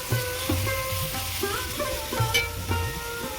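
Ginger paste frying with tomato in a pan for a vegetarian jackfruit dish, a close, steady sizzle broken by repeated scraping stirs of a spoon against the pan, with no voices.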